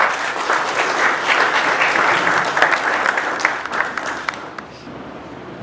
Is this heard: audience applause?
yes